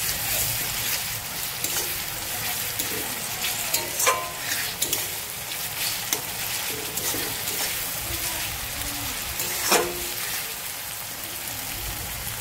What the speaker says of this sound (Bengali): এবারে আমি রসুন বাটা দিয়ে দেব।